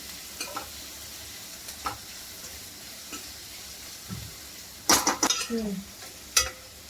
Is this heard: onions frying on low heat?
yes